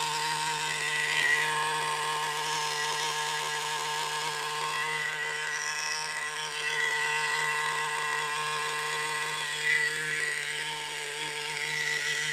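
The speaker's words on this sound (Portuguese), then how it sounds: "Principalmente um motor que está em fase de amaciamento." A Redcat RC model car with an SH18 nitro engine, still being broken in, runs at a steady buzzing drone with slight variations, heard from a moderate distance without speech.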